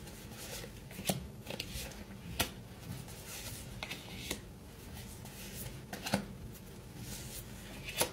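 Tarot cards are shuffled by hand in repeated soft riffles and slaps, with sharper snaps at irregular intervals, close and fairly quiet.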